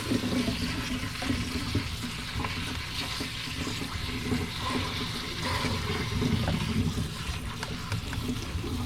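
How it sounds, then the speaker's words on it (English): Blueberries rinsed under a running tap, a steady broadband rush of flowing water with light splashing and rattling, close and continuous with no speech. "for blueberries, I really just, nothing too fancy. I just rinse them."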